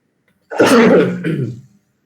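A single harsh cough or throat-clearing burst from a person with a lingering cough, loud and close, lasting about a second before silence.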